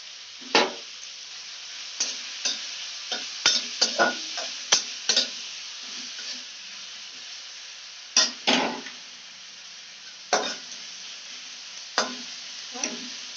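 Cabbage and other vegetables for veg chowmein stir-fry in a pan, with a faint steady sizzle broken by sharp, irregular scrapes and knocks of a spatula against the pan.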